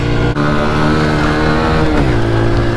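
An off-road vehicle's engine runs hard in third gear, a loud, close, sustained drone with a steady pitch that shifts slightly near the end.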